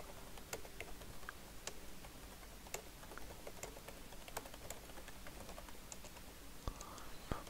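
Someone types on a computer keyboard, making a quiet, irregular stream of light key clicks with occasional louder taps against a faint background hiss. There is no speech.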